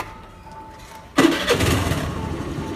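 A Honda Activa 125 scooter starts up close by: a quiet lead-in, then the engine catches abruptly and settles into a steady, loud idle.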